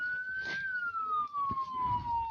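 A steady ambulance siren tone in a video game slowly sliding downward in pitch runs throughout, with muffled thumps and rustling underneath.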